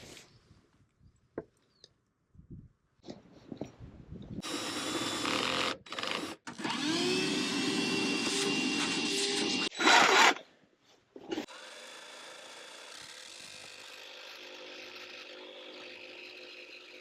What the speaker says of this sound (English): Check out this contraption. It's like the longest drill bit thing I've ever seen.